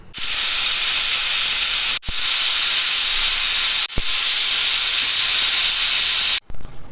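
A pressure cooker cooking chicken curry whistles in three loud, steady bursts of hissing steam, each about two seconds long with brief breaks between them.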